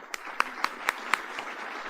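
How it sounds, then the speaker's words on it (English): Scattered claps at a public safety community appreciation luncheon, a handful of sharp hand claps spaced irregularly over a low room background, fairly faint and without talk. "can we all give them a round of applause?"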